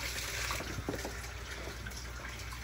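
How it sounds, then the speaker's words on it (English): Water pours gently onto a peace lily houseplant indoors, giving a soft steady trickle and splash throughout at low volume, with no talking. "I'm watering my peace lily"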